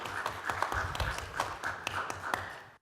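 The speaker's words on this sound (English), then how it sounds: "I'll clap for you." Handful of people clapping at a city council meeting, sparse and uneven, a dozen or so claps spread across a couple of seconds in a quiet room.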